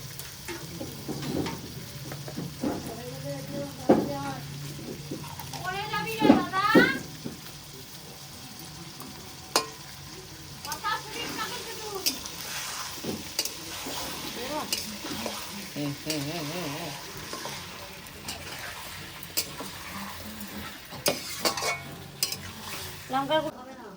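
Tomato and onion fry in hot oil in a home kitchen, with a steady sizzle broken by stirring scrapes and clinks of a utensil against the pan, close and moderately loud, with no talk.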